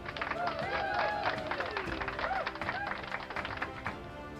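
Audience applause at the Digital Financial Excellence Award 2023 ceremony, a steady patter of many hands clapping throughout, with a host's voice speaking over it.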